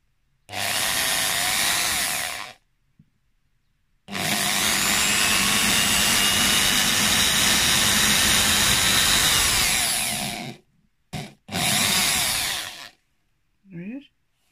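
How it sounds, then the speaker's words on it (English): Power drill boring holes for a homemade ankle rattle, loud, close bursts of whining motor: a short run, a long sustained stretch, then a quick blip and another burst, separated by silence. "Oh, you drill some holes in there."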